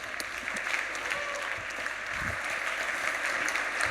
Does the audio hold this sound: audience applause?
yes